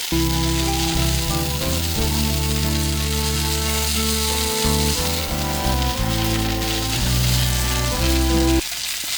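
Shrimp frying in hot oil in a home kitchen, a steady bright sizzle running continuously at a fairly loud level beneath sustained background music, then cutting off near the end.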